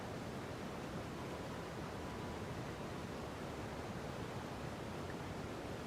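The Palia video game waterfall gives a steady, dense rush of falling water that fills the whole stretch evenly, with no change in level and no voices over it.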